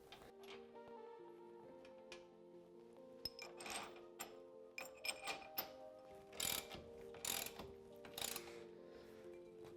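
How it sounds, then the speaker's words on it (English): A socket ratchet with a 17mm socket tightening bolts on a Polaris General 4 1000 UTV during an accessory install, clicking in irregular bursts that grow louder and faster, over a faint background hum, no talk. "Then we can use our 17mm socket to tighten these down."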